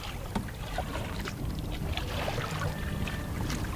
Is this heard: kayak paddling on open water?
yes